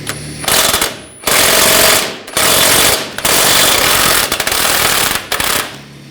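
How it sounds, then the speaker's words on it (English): An 18mm socket loosens a front lower rearward control arm bolt on a 2007-2013 BMW 328i in loud, close bursts of rapid hammering, five runs separated by short gaps. "Now using a 18mm socket, 18mm wrench on the bolt."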